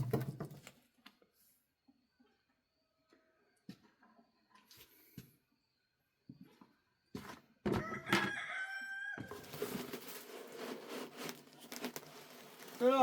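Rooster crowing inside a trailer with chickens nearby, one loud close crow rising after scattered soft clucks and rustles, then continuing bird noise and clatter.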